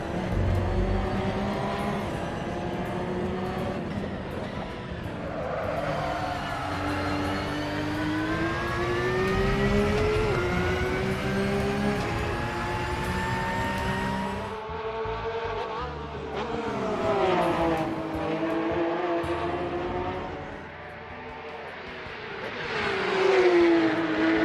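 A car engine in the Assetto Corsa racing game, fitted with a replacement sound mod, drones continuously and loudly, its revs climbing and falling with sharp drops at gear changes, with no voices over it.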